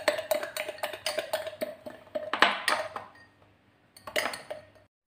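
A choco matcha drink mixture is whisked in a cup, giving rapid, evenly spaced metallic clinks and taps close up. The clinks pause briefly near the end, then a short final burst follows, with no voices.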